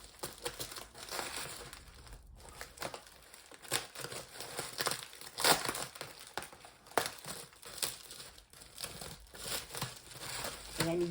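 A taped-up package is cut open and unwrapped by hand, with scissors and tape giving way to bubble wrap and foam: irregular bursts of crinkling, crumpling and tearing at close range, with occasional talk mixed in.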